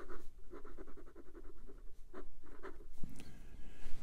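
An 18 karat gold 1.0 stub nib on a Pilot VP fountain pen scratches across paper in a run of quick, close strokes, steady and fairly soft, with a brief clatter near the end and no talking.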